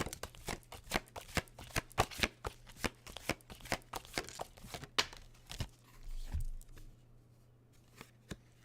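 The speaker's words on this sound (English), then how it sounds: "I'm going to pull another card for you, Jameson." Fortune cards being shuffled and pulled from a deck, a close run of quick papery flicks and riffles in steady rhythm, followed by a soft slide and a few sparse taps, with no talking.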